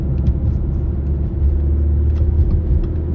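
A car driving in traffic on the Brandywine Highway along the Vestal Parkway, a heavy steady low road rumble from inside the vehicle with faint ticks above, no talk.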